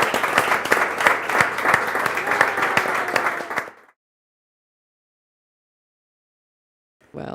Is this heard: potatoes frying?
no